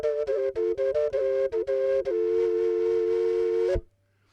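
A homemade plastic double flute, with a small and a large pipe sounding together, gives two pitches at once. It opens with a run of short tongued notes, then holds one long steady note and stops abruptly, close and alone.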